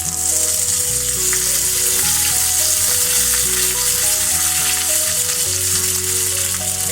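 Mustard seeds, cumin, a dried red chili and curry leaves sizzle and crackle steadily in hot oil for a Tamil curd-vada tempering, a loud continuous fry with no voices.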